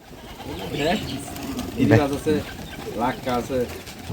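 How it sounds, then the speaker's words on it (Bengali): Pigeons coo in low, repeated throaty bursts at a pigeon farm, Bombay and local Bengal varieties, with a person talking intermittently over them and faint background noise. "কবুতর আছে"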